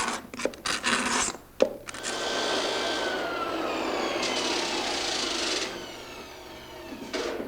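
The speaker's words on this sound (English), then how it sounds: "we'll just use a regular scraper and remove the paint" Hand scraper dragged across a wooden floor to strip paint from the corners, a few short scratchy strokes followed by a long continuous rasping scrape, close and fairly loud.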